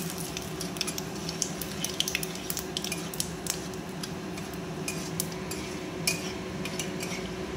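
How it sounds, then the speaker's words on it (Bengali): Bay leaf and whole cumin fry in oil left over from frying potatoes, making a soft, even sizzle over a low steady hum, with light clicks and scrapes of a stirring utensil. "তো এটা ভালোভাবে করে লাল লাল করে ভাজতে হবে।"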